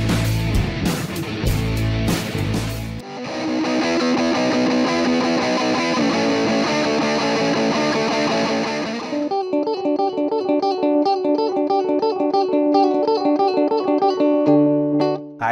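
Electric guitar played through a VANGOA distortion pedal, thick sustained chords followed by chugging, rhythmic riffing, loud and saturated with no voices.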